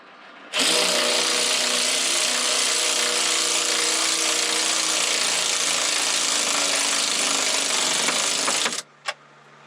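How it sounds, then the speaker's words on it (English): A power tool tightens bolts on a budget DIY roof rail system for a camper topper, whining in one loud, steady burst of about eight seconds before it cuts off, followed by a brief blip. "so got all the bolts tightened"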